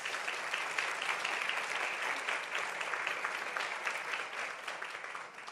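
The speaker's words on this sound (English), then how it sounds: "Could we give them a round of applause anyway?" A room full of people claps for school board members at a public meeting, a dense, even round of applause heard from a little distance that holds steady and then tapers slightly at the close.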